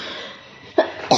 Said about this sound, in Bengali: তো কাশিটা কিছুতেই কমছে না